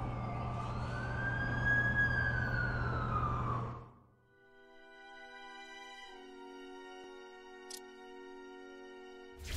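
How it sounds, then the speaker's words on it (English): An ambulance siren in The Amazing Spider-Man 2 video game wails loudly and close at first, sweeping up and down, then fades out and gives way to sustained tonal game music with a few faint clicks. "That's the ambulance I called."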